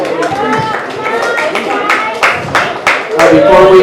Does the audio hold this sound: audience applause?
yes